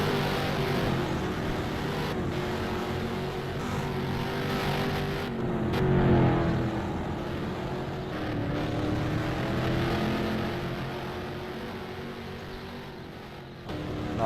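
Race cars on a road course make a steady engine drone at a moderate distance. Pitch rises and falls as cars accelerate, with a brief louder swell as one passes closer.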